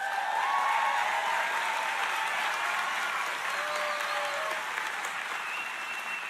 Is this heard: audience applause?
yes